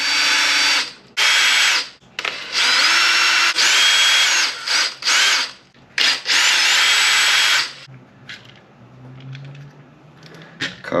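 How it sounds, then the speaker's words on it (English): A power drill backs screws out of an Arrma Outcast 4S V2.5 RC car, loud close whirring bursts in several stops and starts, then quieter clicks and handling. "I'm going to go ahead and pop these screws out."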